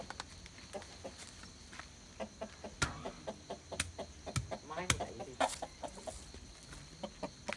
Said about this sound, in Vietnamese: Đây, gà đẻ.